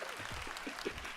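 Applause effect in the video game FNAF Secret of the Mimic, a continuous, even wash of clapping heard at a quiet level, with a few low voiced murmurs mixed faintly beneath it.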